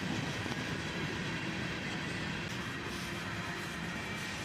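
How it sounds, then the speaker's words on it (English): A CSX intermodal freight train rolls past slowly through downtown Dayton, giving a continuous broadband rumble and wheel noise that holds steady and fairly close throughout. "the tail end of that intermodal train passes by"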